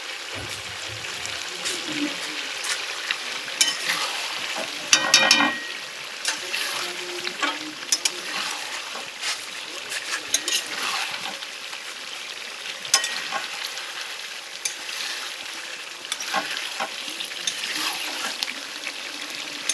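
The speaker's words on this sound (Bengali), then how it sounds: "তো এই যে এটা কষানোটা চলছে এখন" Outdoors in a courtyard, mutton curry with green chili paste is sautéed in a pan and sizzles steadily and close. Irregular scraping stir strokes run through it for a long stretch.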